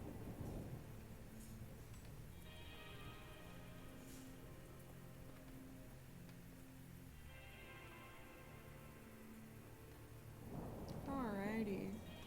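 Rolling thunder and steady rain in a horror video game, with low rumbles and a constant hiss of rainfall under eerie music, and a brief voice near the end.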